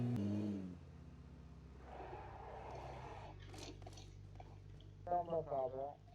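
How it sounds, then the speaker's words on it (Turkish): A vehicle approaches in the PUBG Mobile video game, its low engine drone steady in the background of a match, with a few brief game sounds and chirps over it. "Araba geliyor."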